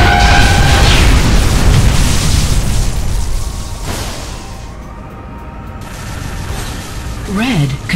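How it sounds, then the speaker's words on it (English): The blue power core in Unreal Tournament 3 Warfare mode blows apart in a loud, rumbling boom that rolls and slowly fades, followed by a synthetic announcer voice and electronic chirps. "Blue core is destroyed."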